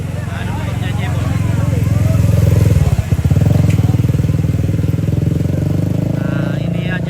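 Racing motorcycles roar past on a road race circuit in Tana Toraja, a loud engine drone swelling to a peak near the middle with a brief sputter, then holding steady as the bikes continue by.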